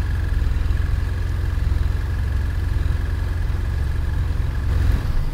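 A car engine idles steadily during a remote starter and anti-theft device installation, a close, even low rumble with a rhythmic pulse and a slight rise near the end.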